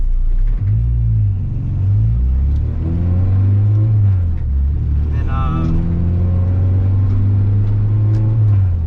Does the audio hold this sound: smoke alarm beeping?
no